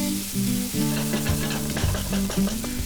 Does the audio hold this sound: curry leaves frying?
yes